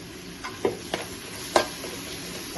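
Chili powder being stirred into an okra and tomato curry in a pan, with a few distinct spoon scrapes and clacks over a soft, quiet sizzle and no talking.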